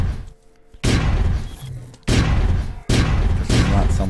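Loud gunfire bursts crack out in a survival video game with nuclear mushroom clouds, three heavy reports spaced about a second apart, each with a long booming tail.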